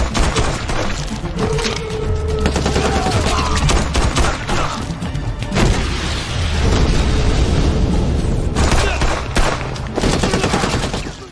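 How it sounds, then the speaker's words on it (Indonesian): A gunfight in an action film, with dense, sustained bursts of gunfire and scattered blasts filling the whole stretch loudly, with no speech over them. "Kemudian terjadi saling tembak."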